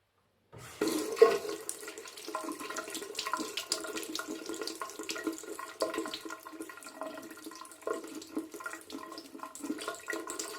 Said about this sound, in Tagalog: First step, wash the ginger with water.